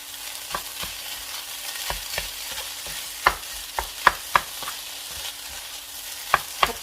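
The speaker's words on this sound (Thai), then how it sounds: "เดี๋ยวยุก็จะเอาข้าวที่เราผัดเนี่ยนะคะ มาคลุกกับไข่นะคะ" Rice being stir-fried and tossed with egg in a pan, a soft continuous sizzle broken by repeated scraping clinks of the spatula against the pan, close and with no voices.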